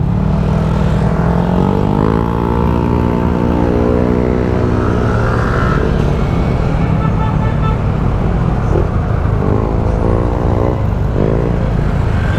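Loud, close road traffic rumbles throughout as a car engine passes, with steady roar, occasional horn-like tones and engine whines rising and falling, and no talk.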